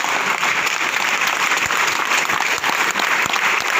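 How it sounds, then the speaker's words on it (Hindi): An audience gives loud, dense, sustained applause at a success seminar in a theatre hall, continuous clapping filling the room with no speech over it. "लोगों के लिए एक जोरदार ताली बजा लीजिए।"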